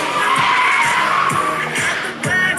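A car skids at a stunt show in Mulhouse, giving a loud, sustained, close tire squeal over engine noise that wavers briefly before screeching again.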